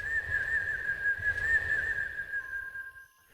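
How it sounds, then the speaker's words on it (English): Sharp, sustained whistling close by at a steady high pitch, wavering slightly over low rumbling background noise for about three seconds before fading out; no one speaks. "Outside, whistling erupted,"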